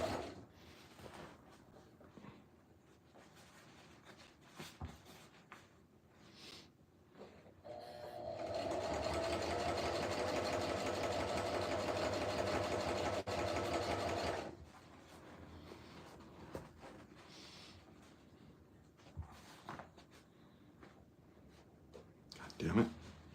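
A sewing machine runs one steady stretch of top-stitching on a camo helmet cover, moderately loud and close, framed by quieter handling clicks and rustles before and after.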